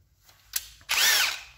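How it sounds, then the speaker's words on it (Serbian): A Parkside cordless drill driver bores a hole: a brief click and short burst, then a loud, close whirring drill run that rises in pitch for about half a second. "sa ovom šrafelicom ja vršim neko bušenje,"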